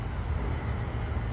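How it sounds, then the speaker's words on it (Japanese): A JAL Boeing 787 passenger jet from Haneda passes overhead as a steady, broad low roar and rumble, moderately loud and continuous, with no talking. "あれが羽田から来た JAL らしいんですけど、ボーイング787っていう結構大きい"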